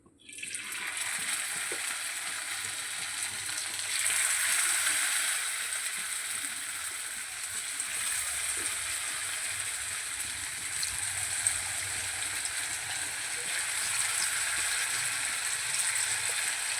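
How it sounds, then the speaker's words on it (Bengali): Potato pakoras deep-fry in hot oil, giving a loud, continuous bubbling hiss that holds steady for the whole stretch, with no voices. "এবার আমি আলুর পকোড়াটাকে ভেজে নেব।"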